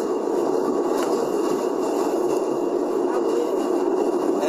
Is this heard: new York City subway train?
yes